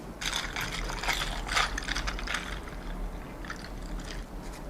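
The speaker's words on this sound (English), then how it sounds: "I'm just going to scrape it so that I get all the goodness there." Coffee mixture from a French press scraped into a cup for an iced mocha, a steady close scraping and trickling with short bright bursts, no talking.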